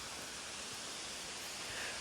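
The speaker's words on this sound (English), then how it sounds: "an artificial atmosphere and artificial waterfalls like we're looking at here" An artificial indoor waterfall at the Eden Project gives a constant, even roar of falling water, a dense wash of noise with no voices.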